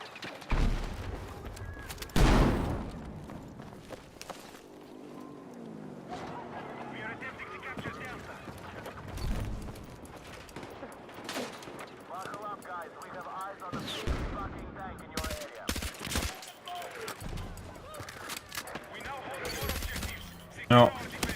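Bursts of gunfire in the shooter Battlefield 6, with scattered sharp shots and a heavy blast near the start over a busy battlefield din, while a voice talks over parts of it.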